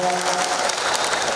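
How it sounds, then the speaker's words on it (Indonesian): Outdoor audience applause at the inauguration of Wates market, a themed market in Kediri regency, a brief, even burst of many hands clapping at moderate loudness with a speaker's voice trailing off at the start. "Boleh berikan tepuk tangan dulu yang luar biasa Bapak Ibu semuanya."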